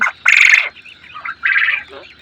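European white giant quails calling, two loud harsh bursts separated by quieter chattering, close and clear with no speech.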